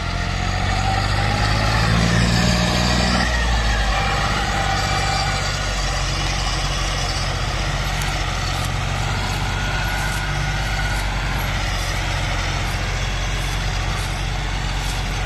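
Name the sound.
two tractors hauling sugarcane, engines running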